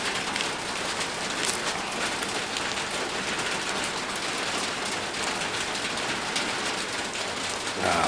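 Steady, dense rain falls throughout during a climb toward the summit of Mount Kinabalu near Panalaban, a continuous close hiss of drops hitting surfaces with no speech.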